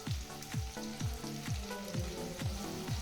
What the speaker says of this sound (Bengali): এবার আমি এটাকে একটু ভাজা ভাজা করে দেবো।